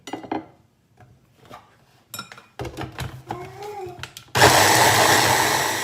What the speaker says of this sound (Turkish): soğanlarımızı ve sarımsaklarımızı atıp blenderdan geçirdirik